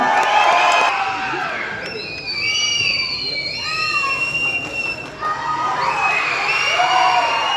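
A film audio launch audience welcoming director Vetrimaaran cheers and whistles loudly, with shrill whoops and shouts layered over a dense roar of crowd noise and some clapping.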